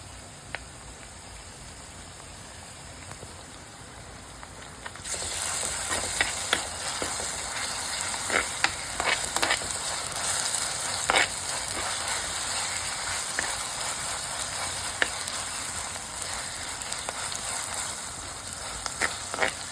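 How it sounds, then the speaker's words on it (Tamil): Ingredients sautéing in a pan for chicken kulambu, ginger garlic paste going in, a steady sizzling hiss that jumps louder partway through with scattered crackles and pops, close and continuous with no talking. "இது கொஞ்ச நேரம் வதங்கட்டும்"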